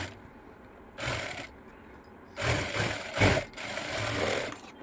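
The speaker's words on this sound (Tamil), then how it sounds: "தையல் அடிச்சுட்டு ஓவர்லாக்கும் அடிச்சிருங்க." Sewing machine stitching a blouse seam, running in several short bursts of fast mechanical whirring with brief pauses between.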